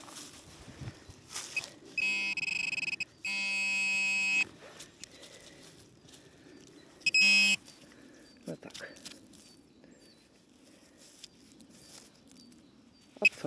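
Electronic beeping tones from a metal detector sound in short sustained bursts, interrupted by rustling and handling noises outdoors in a forest, then quieter digging scrapes.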